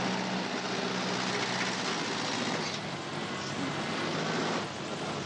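A tractor engine drones steadily in Farming Simulator 19, a constant broadband hum with no breaks or changes in pitch, loud and alone with no talking over it.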